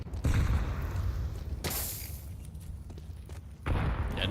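Grenade explosions go off in a competitive Counter-Strike match: three booming blasts at irregular intervals, the first and last heavy and close, the middle one sharper, with low game rumble underneath.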